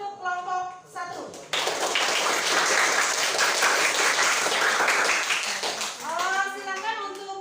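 Applause for a student group in a school classroom, a sudden burst of many clapping hands that holds steady for several seconds, with a teacher's voice speaking before and after it.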